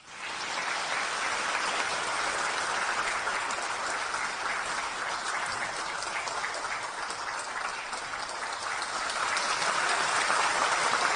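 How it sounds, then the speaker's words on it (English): An audience claps warmly to welcome a lecturer, a dense, even wash of applause that starts at once and holds steady, swelling slightly near the end, with no voices over it. "let us give a warm round of applause to welcome Khenpo Sodaji to give us his lecture"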